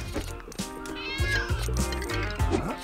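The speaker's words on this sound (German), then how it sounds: "Miauzen." A cartoonish cat in LEGO City Undercover meows repeatedly, several distinct yowling calls close and clear over light game music.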